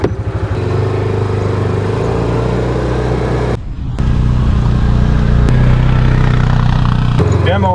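A 2024 Massimo T Boss 550 UTV engine drones steadily in low gear through Tennessee hill country, a loud, close, continuous hum that dips briefly near the middle before resuming, with a faint voice underneath.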